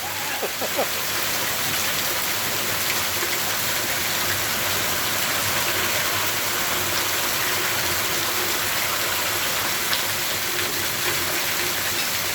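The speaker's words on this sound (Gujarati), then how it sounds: "એ પોઝિશનમાં વરસાદ પડી રહ્યો છે વીજળીના કડાકા ભડાકા સાથે" Steady rain pouring during a stormy pre-monsoon downpour, a dense even wash of drops, with no distinct thunder crash standing out.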